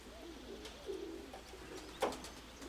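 Soft, low coos of young pigeons rising and falling, with a couple of brief fluttery peaks, quiet and close in a calm setting.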